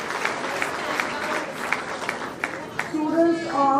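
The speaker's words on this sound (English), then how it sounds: "Keep clapping parents." Parents clap for UKG students at a school presentation, a steady spatter of applause that thins out as a voice starts talking near the end.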